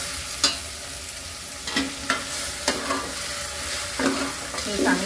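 Mutton with ginger, garlic and coriander paste sizzles and fries in a pan for a Maharashtrian mutton rassa, with a steady sizzle broken by several sharp stirring scrapes spaced a second or so apart.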